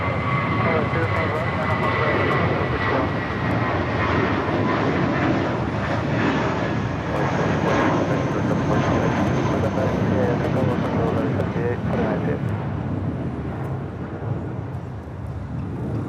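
A Boeing 787-9 Dreamliner jet roars steadily during takeoff on runway 25 right at LAX, a loud continuous engine rumble filling the whole stretch and easing slightly near the end, with radio talk faintly underneath.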